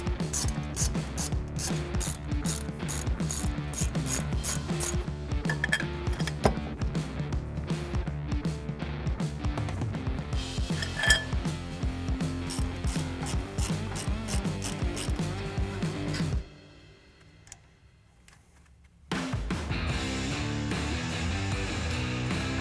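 A ratchet wrench clicks rapidly in long repeated bursts while removing brake line and ABS bracket bolts on a 2016-2020 Toyota Tacoma during a lift kit install, loud and close, with a short quiet gap before the ratcheting resumes.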